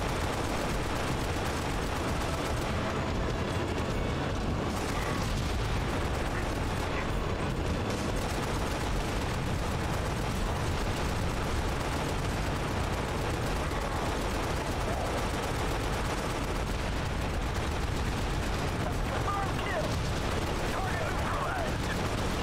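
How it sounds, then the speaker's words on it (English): A Scorpion tank explodes in the video game Halo: Spartan Assault, amid continuous loud gunfire and blasts that run dense and unbroken throughout. "This scorpion's blowing up."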